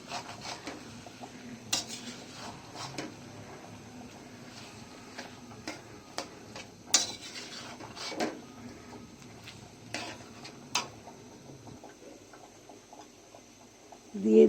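A spoon stirring olive chutney with red chilli powder in a pan makes soft, irregular scrapes and taps against the metal, fairly quiet and close, with no one talking.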